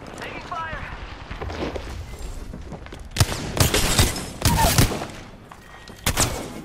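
Gunfire in a competitive shooter video game: several bursts of sharp shots in clusters, moderately loud, mixed with footsteps and game effects.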